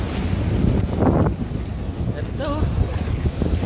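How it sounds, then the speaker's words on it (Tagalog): Strong ocean waves crash onshore in a loud, continuous roar. Heavy wind buffets the microphone, and a person speaks briefly nearby. "Lakas ng alon, no?"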